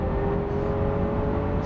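Lamborghini Aventador SV with a 6.5-liter V12 engine revving, a dense, steady, loud roar heard up close, with no talking over it.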